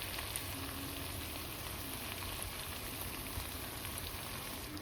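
Fried katla fish pieces go into a pan of frying pointed gourd and potato, setting off a steady, even sizzle of hot oil that holds at a constant level throughout, with no voices.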